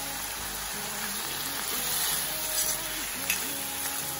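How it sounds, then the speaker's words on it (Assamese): Peeled potato pieces fry in a pan with a steady, soft sizzling hiss, heard close beneath a person talking. "মই গোটা গোটাকৈ আলু কেইটামান বাকলি গুচাই লৈছিলোঁ তো সেইখিনিও মই একেলগে ভাজি ল'ম"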